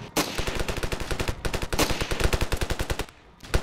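Rapid automatic gunfire in the video game Ravenfield, a steady string of close, loud shots in quick rhythm with a short pause before another burst.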